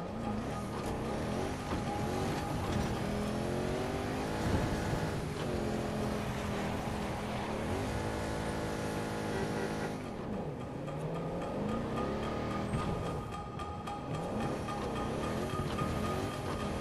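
Steady engine drone of a car arriving in a military shooter game on the Orbital map, loud and continuous with shifting gear-like tones, under dense game noise and music.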